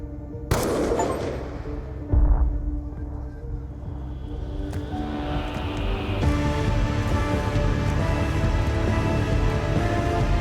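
Gunfire from the video game Call of Duty: Black Ops II, with a sharp shot near the start and another heavy blast a couple of seconds later, followed by a rumbling, sustained wash of game ambience.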